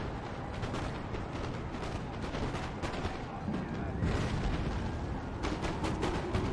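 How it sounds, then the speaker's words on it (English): Cannon in Napoleon: Total War fire canister shot in a loud, dense run of overlapping booms and crackling blasts, continuous over a rumbling battlefield din. "We can instead fire down onto these with the canister."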